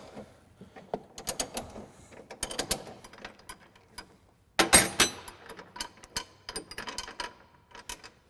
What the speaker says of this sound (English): we're using a 16mm wrench on the head of the bolt and using a 19mm wrench on the nut